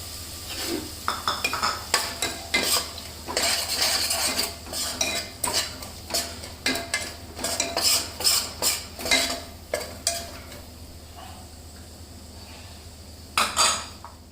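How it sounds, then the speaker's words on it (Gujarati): A metal spoon scrapes and clinks against a pan as ganthiya and peanut powder are stirred into a drumstick curry, rapid irregular strokes in bursts with a faint sizzle beneath, closing in a final louder scrape. "હવે આમાં આપણે ગાંઠિયા અને સિંગદાણાનો તૈયાર કરેલો ભૂકો નાખી દઈશું"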